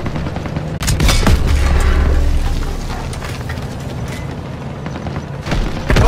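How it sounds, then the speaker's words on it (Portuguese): Panzerschreck rocket explosions in Call of Duty: WWII: loud booming blasts and sharp cracks mixed with gunfire in a chaotic battle, with a low rumble early on and more hits near the end. "Panzer Shrek nos atacando em frente!"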